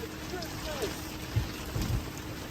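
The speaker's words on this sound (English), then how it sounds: "Nobody likes charging in the rain." Steady rain falls at an EV charging station, a continuous broadband hiss with a couple of louder thumps and brief voice-like sounds over it.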